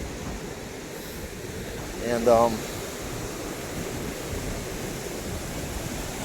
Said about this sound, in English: when these waves crash, sometimes the storms are wicked, man